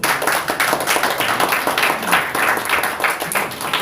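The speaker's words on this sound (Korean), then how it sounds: "박수 한번 주십시오." Attendees at an emergency meeting of conservative group leaders clap in a rhythmic, uneven burst, with individual claps audible in waves through the crowd's applause.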